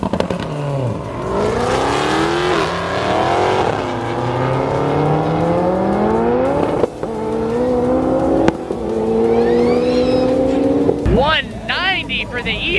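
Supercars race side by side, engines screaming upward through gear changes in loud, overlapping sweeps, with sharp shift breaks and a fresh high-revving burst near the end.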